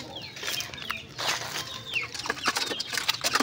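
Chickens cluck and squawk close by, with a rooster-like call and scattered bird chatter over a busy outdoor background.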